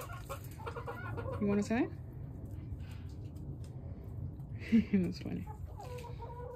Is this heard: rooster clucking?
yes